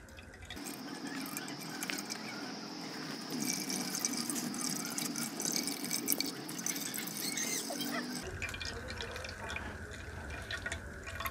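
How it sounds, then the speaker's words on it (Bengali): Tomato puree squeezed by hand through a cloth, juice dripping and trickling steadily in a close, continuous wet patter that shifts tone partway through, with no talk. "এখন আমি কাপড়টাকে আলতো হাতে এভাবে সব দিক তুলে আস্তে আস্তে চিপে চিপে শুধু টমেটোর পিউরিটা বের করে নিচ্ছি"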